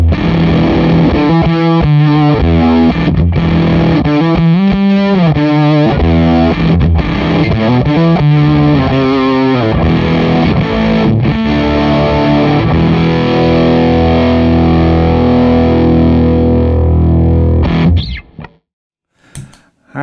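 A Les Paul played through a Mini Band of Gypsys Fuzz Face pedal produces a loud, gritty fuzz. Busy riffing gives way to long sustained chords that ring out before stopping, with a few brief noises after.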